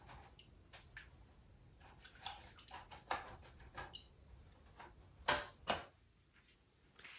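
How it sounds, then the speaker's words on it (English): A paintbrush is rinsed in a water cup during an acrylic painting session, with soft splashes and taps of the brush against the container in irregular small bursts, close but faint. "I'm going to rinse my brush out."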